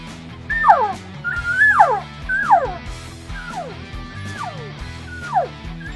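A call imitating a bull elk, made on The Closer elk call: several high, squealing bugles that slide downward, repeated in quick succession and close by.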